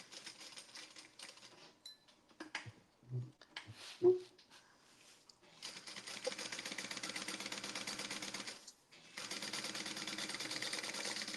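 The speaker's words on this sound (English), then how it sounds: "you will be sewing over your pocket" Sewing machine stitching over a tote bag pocket, starting after a few handling clicks and knocks, then running in two steady whirring stretches split by a brief pause.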